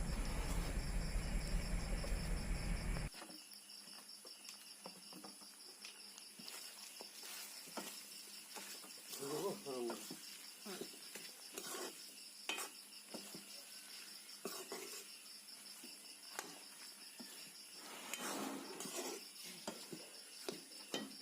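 Pork seasoned with turmeric and curry leaf fries in a pan while a utensil stirs it, giving scraping and clinking over a soft, steady sizzle. A louder burst of broadband noise comes first, and no one speaks.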